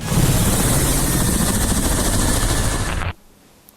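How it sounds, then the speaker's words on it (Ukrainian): A Russian Ka-52 Alligator reconnaissance and attack helicopter, heard as a loud, close, steady roar of engine and rotor noise that cuts off abruptly near the end. "Це К-52 або алігатор, розвідувально-ударний гелікоптер країни-агресора"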